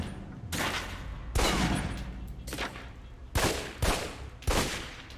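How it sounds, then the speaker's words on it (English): Pistol shots fired at a range target in the video game Alpha Protocol: five sharp, loud cracks in an uneven sequence, each with a short decaying tail, no voices. "Equip the pistol, then aim down range and take some shots at the target."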